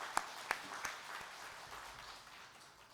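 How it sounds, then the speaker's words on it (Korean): A church congregation applauds after a choir's hymn at a Sunday worship service, a few sharp claps at the start giving way to soft, diffuse clapping that fades out. "우리 박수하겠습니다."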